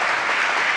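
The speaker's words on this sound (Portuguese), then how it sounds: "Dá um aplauso a Jesus" Dense, steady applause from a crowd giving a round of applause to Jesus, a brief burst of continuous clapping.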